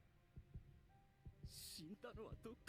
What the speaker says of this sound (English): you also hear the heartbeat as well